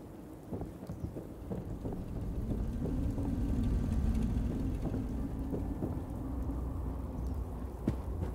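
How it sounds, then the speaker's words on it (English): Rain falls steadily in a Fallout 4 game world as low thunder rolls in and swells through the middle, a continuous wet patter with scattered sharper drops. No one speaks. "Hope this rain lets up soon."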